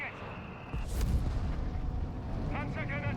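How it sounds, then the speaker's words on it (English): Mortar rounds blast enemy sappers in Company of Heroes 3, a heavy explosion thumping in about a second in, followed by rumbling battle noise and crackling debris, while a commentator talks over it. "Sappers being blasted here by my mortar"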